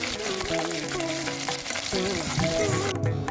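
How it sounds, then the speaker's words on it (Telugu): Mustard seeds, cumin, garlic, dried red chillies and curry leaves tempering in hot oil for a bitter gourd pickle: a loud, close crackling sizzle, with background voices or music faintly audible beneath. "ఈ వేడి నూనెలో ఆవాలు జీలకర్ర ఎల్లిపాయలు ఎండుమిర్చి కరివేపాకు వేసి"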